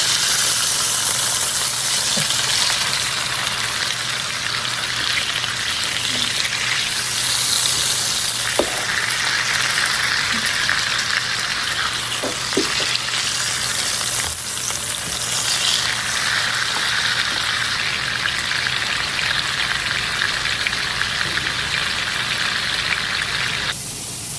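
A burger patty sizzling loudly and continuously on a hot griddle, with a few spatula scrapes and taps as it is flipped and mashed down.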